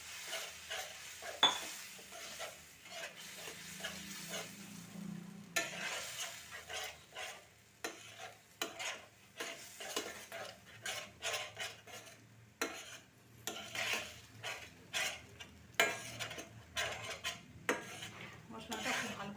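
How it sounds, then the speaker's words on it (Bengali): Masala spice paste frying in a pan with a little water for paneer, with steady clattering of a utensil against the pot as it is stirred, plus faint sizzling underneath. "মশলাটা খুব ভালো করে ভেজে নেব।"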